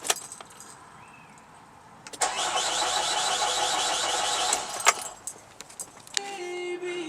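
A diesel Renault Trafic van that has run out of fuel cranks for a couple of seconds with a loud, churning starter whir that fails to catch, surrounded by clicks and key handling, then a steady warning chime.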